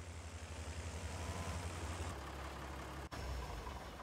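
Tractor engine in Farming Simulator 19 idling and running with a steady low rumble throughout, continuous and moderately loud, with a brief dip near the end.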